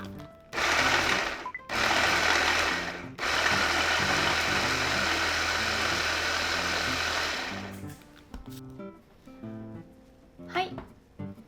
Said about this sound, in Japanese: 人参入れたらあとはブレンダーで砕いていきましょう